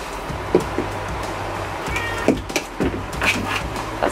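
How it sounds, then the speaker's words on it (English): A cat meows several times in short, close calls, spaced irregularly over a low steady hum, with no talking. "watch out for that kitty"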